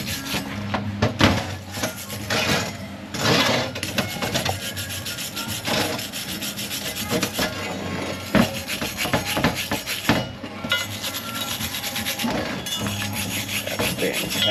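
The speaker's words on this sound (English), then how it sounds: "we need to wipe away the excess lubrication" A cloth wipes away excess lubrication in continuous, close rubbing strokes, a steady scratchy swishing with brief pauses and a few sharper scuffs.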